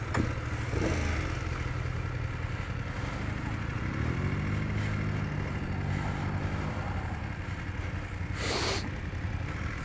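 A 2019 BMW F850GS on a test ride gives a constant close engine drone under heavy wind rush, with a brief rising rev midway and a short sharp burst near the end.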